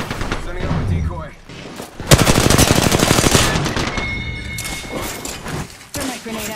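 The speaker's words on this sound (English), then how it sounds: "Shots fired." Rapid automatic gunfire in Apex Legends Season 3 ranked play, loud bursts of shots crackling densely for several seconds amid game effects, with a voice talking over parts of it.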